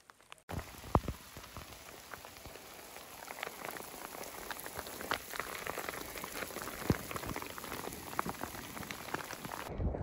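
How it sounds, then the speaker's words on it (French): Rain and wind on a high mountain ridge at about 2270 metres in the Écrins massif, with dense close patter of drops on a surface and a steady rushing background over the whole stretch, no voices. "Et on a tout le vent de la crête, plus la pluie qu'on a vu justement."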